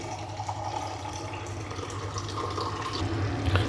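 Water runs steadily into a pot of country chicken curry, a continuous low splashing and gurgling at close range.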